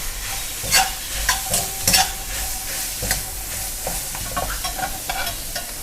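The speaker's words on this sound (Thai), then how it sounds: "สุกยากเอาใส่ลงไปผัดนะคะผัดไปก่อนนะคะ" Carrots being stir-fried in a pan for a stuffed-omelette filling, a steady sizzle broken by repeated scraping strokes of the spatula, close and clear, with no talk.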